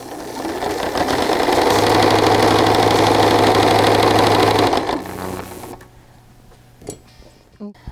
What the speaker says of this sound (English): All right, so I'm just sewing up this side seam.